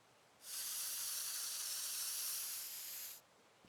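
In the video game Teardown, a spray can paints a car with one steady hissing burst lasting about three seconds, close and even, with nothing else heard.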